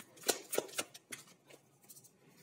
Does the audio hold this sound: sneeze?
no